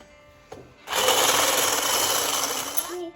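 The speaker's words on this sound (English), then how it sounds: "Then you mix it with your hand mix" An electric hand mixer whirs into a steady, loud buzzing drone as it works sugar cookie dough with milk, starting after a small knock and holding for about two seconds before winding down.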